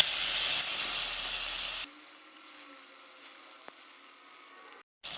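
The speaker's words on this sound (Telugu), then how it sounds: "చూడండి, ఆయిల్ వేడెక్కింది. ఇప్పుడు నేను కడిగి పెట్టుకున్న ఈ ఎండు రొయ్యల్ని దీంట్లో వేస్తున్నాను." Washed dried prawns drop into hot oil in a pan and hiss loudly, then settle into a quieter steady sizzle.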